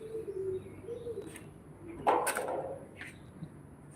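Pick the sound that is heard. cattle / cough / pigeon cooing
pigeon cooing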